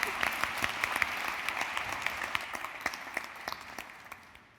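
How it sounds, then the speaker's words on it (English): An audience at a museum panel in Barcelona gives a speaker a round of applause, with scattered, fairly faint clapping and some distinct individual claps that fade out by the end. "please, a round of applause"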